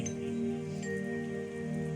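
Steady rain falls during an outdoor Shrimad Bhagwat recitation gathering, a soft continuous wash of patter at moderate level with no voices.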